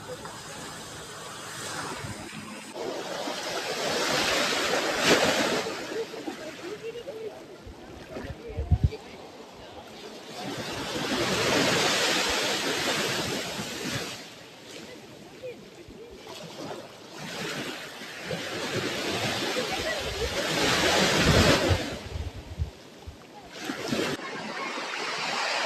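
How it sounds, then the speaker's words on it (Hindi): A boat coming in across mangrove water near Langkawi, Malaysia, with a steady engine drone and washing waves, blended with wind, heard close and continuous, a voice briefly audible over it. "चलिए बोट आ चुकी है अब हमारी वापस से"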